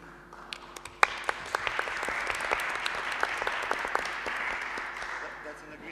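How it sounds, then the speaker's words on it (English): An audience at a panel discussion breaks into applause, a dense wash of many hands clapping that swells after a few scattered early claps and holds steady before thinning slightly. "when people applaud, that's an agreement"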